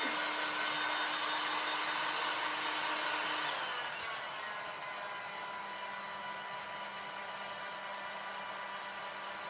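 A hair dryer blows steadily at close range, drying paint on an egg carton craft. Its pitch drops slightly partway through as the setting changes, and the whir continues alone to the end.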